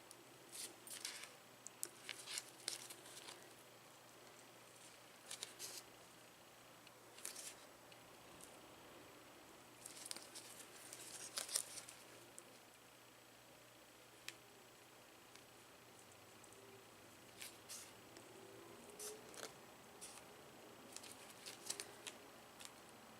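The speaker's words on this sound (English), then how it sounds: "And I'll use scissors for the other part." Scissors snip around an in-the-hoop embroidered ID holder pocket, making a series of quiet, irregular close-up clicks and cuts with pauses between them and no talking.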